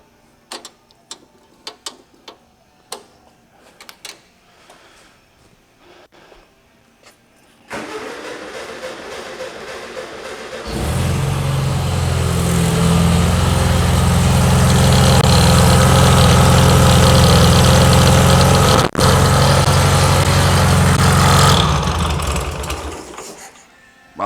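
A 1976 VW Super Beetle with running issues cranks and catches, then its air-cooled engine runs loud and steady at a fast idle for roughly ten seconds before cutting out, with faint clicks and handling noises beforehand.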